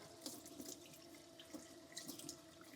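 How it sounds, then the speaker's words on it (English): Cold tap water runs into a sink while a lobster tail is rinsed under it, a close, quiet steady stream with splashes and drips shifting as the tail moves through the flow. "Just wash it off with cold water."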